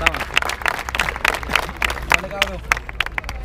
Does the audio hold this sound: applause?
yes